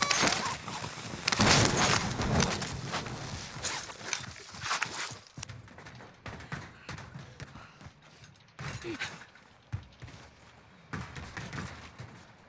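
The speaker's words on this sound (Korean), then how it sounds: "저쪽에 발소리" Footsteps and gear rattle in the game Call of Duty Warzone, a busy stretch of shuffling, clattering steps and mechanical clicks that fades and returns in bursts, fairly close, with no talk over it.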